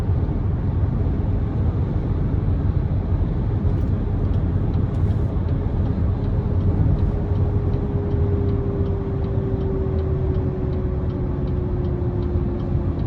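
Steady low road and engine rumble inside a 2024 Cadillac XT6 Luxury AWD with 2.0-liter turbo engine cruising down an interstate, with faint wind and tire hiss and a slowly falling tonal hum throughout, no talking.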